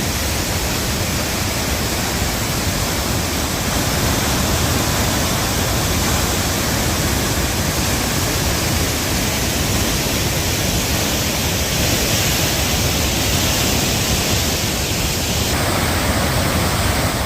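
Betupalli pond spills over its weir after heavy rain, a loud, unbroken roar of rushing water that holds steady for the full stretch with no voices.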